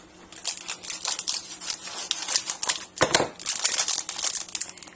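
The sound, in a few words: scissors cutting open a package of sliced mozzarella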